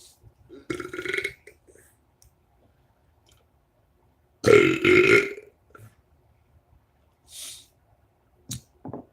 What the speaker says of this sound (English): Oh, a little bit of a chili burp there.